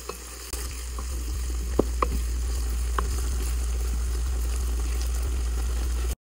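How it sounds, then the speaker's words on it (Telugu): Chicken pieces fry in oil for a chicken pickle, giving a steady, close sizzle throughout with a few sharp clicks from stirring. "ఈ 4 స్పూన్స్ స్మెల్ పోయేంత వరకు అయితే ఫ్రై చేసుకుందాం. అంతతోటి పికిళ్ళు ఫ్రై చేయడం అయితే అయిపోతుంది."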